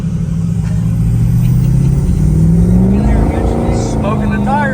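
A stock-geared budget car launches at full throttle from 0 to 60, engine roaring loudly and climbing steadily in pitch as it accelerates hard, close and continuous.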